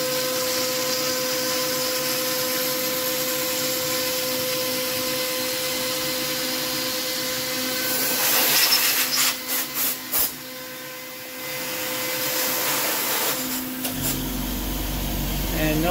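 A PrintNC CNC router cuts 6061 aluminium under mist coolant. A steady spindle whine and cutting drone run throughout, with a few short bursts partway through, before the sound shifts near the end.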